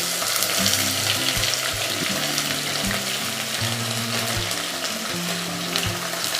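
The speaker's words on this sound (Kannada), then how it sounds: "ಈ ಈರುಳ್ಳಿಯನ್ನೆಲ್ಲ ಇದಕ್ಕೆ ಹಾಕ್ಬಿಡ್ಬೇಕು." Large heap of chopped onions frying in a hot pan for Champaran chicken, a steady close sizzle with scraping stirs and clacks of a utensil against the pan, no talking.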